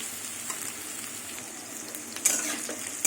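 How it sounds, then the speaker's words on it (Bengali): Pieces of young jackfruit fry in hot oil with a continuous, fairly quiet sizzle and crackle, and a brief louder burst near the end, with no talking. "এখনো ভাজা হবে এঁচড়টা"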